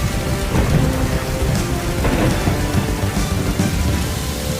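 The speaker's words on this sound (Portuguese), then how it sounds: "Essa é a primeira tempestade desde que as bombas caíram." A heavy rainstorm with thunder, loud and steady, dense rain pouring on surfaces with low rumbling beneath, continuous throughout with no voices.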